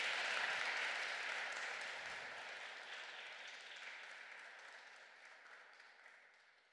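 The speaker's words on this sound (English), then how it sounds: "I will also ask all of you here to do a big applause" Large conference audience applauding together, a dense, even wash of clapping that starts loud and slowly fades over several seconds, with no voices over it.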